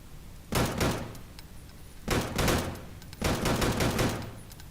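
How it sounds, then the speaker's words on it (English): Rifle fire in the video game Deadside: three loud, close bursts of rapid shots separated by short pauses, each burst a dense crackling volley. "He had a rifle of some sort."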